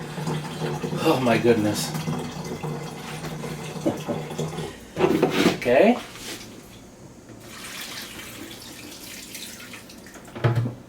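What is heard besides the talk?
tap water filling a pitcher or jug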